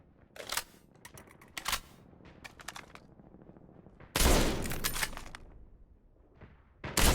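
Sniper rifle fire in the mobile shooter game Call of Duty Mobile: several sharp, loud shots separated by quiet gaps, then a longer roaring burst of gunfire, with no speech.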